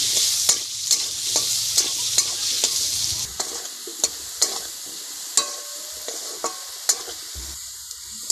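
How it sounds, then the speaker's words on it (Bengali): Potatoes seasoned with salt and turmeric fry in hot oil, giving a steady sizzle close up. A spatula scrapes and taps the pan in a regular rhythm of sharp clinks, and the frying hiss eases partway through. "আলু ভাজা আমার হয়ে গেছে"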